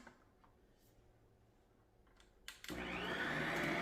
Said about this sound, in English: close our stand mixer up and turn it on to a medium to high speed